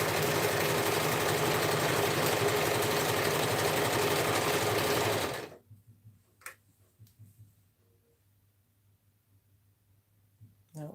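A sewing machine drives steadily through thick layers of fabric on a dress form cover, a loud, dense whir lasting about five seconds before it cuts off. Faint clicks and rustles follow, then a brief noise at the end.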